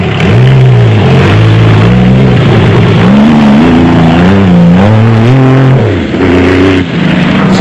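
A Scat V6-powered Jimco off-road race car at the Toyota 1000 desert race in Botswana, its engine loud and close, revving and rising and falling in pitch through steady acceleration, with no talk.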